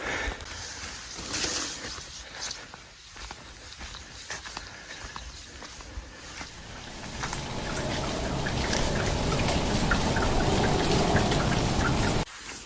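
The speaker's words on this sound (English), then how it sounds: "I'm gonna have to shelter from this rain under these trees for a minute" Light rain patters on tree leaves outdoors in Thailand, soft and steady at first with scattered drips, then thickening into a denser, louder shower; no one speaks.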